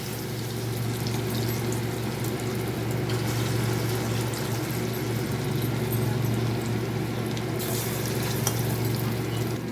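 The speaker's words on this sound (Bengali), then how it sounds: "একটু লাল লাল করে ভেজে নেব।" Chicken pieces deep-frying in oil for crispy chicken, a steady, close, dense sizzle with a low bubbling hum running unbroken from start to finish, no voices over it.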